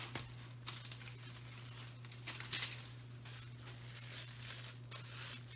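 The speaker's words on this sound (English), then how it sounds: "I'm going to put the disc in between the 2 pieces of plastic wrap." Plastic wrap crinkles and rustles intermittently as it is folded around a disc of applesauce-cinnamon ornament dough, close and fairly quiet, with a steady low electrical hum underneath.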